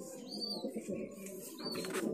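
Fancy pigeons cooing softly nearby, low throaty coos repeating over a faint background murmur.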